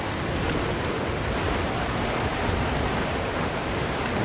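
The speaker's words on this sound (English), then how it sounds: "The rain's really coming down." Heavy rain in the video game Monster Hunter Wilds, a dense, unbroken hiss of a downpour pounding the ground, loud and steady throughout, with no voices or other sounds cutting through.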